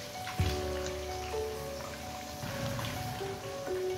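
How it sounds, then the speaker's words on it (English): Ikan kembung fish frying in oil at medium heat, around 160 Celsius, giving a steady, close crackling sizzle like light rain that continues throughout with a low background hum. "Then just put in the fishes and let it fry"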